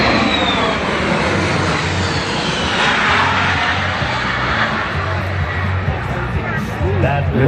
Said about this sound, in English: I want you to notice as he makes this high-speed pass just how quiet the C-17 is.